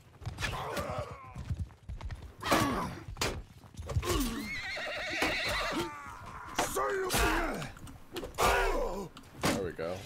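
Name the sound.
horse neighing after being hit, Mount and Blade II: Bannerlord video game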